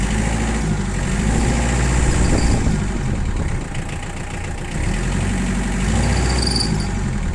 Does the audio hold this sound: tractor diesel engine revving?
yes